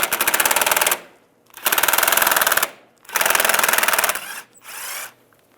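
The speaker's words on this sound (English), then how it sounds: "Using a 10mm socket, take this nut off." Rapid mechanical ratcheting from a 10mm socket taking a nut off a 1995-2005 Volkswagen Jetta, loud and close, in three long buzzing bursts with short pauses, then a softer fourth.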